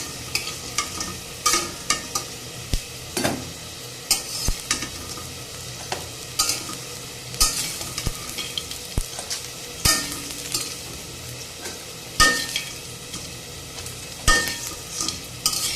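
Bottle gourd leaf fritters sizzle steadily in hot oil in a kadai, with a spatula scraping and clinking against the pan at irregular intervals.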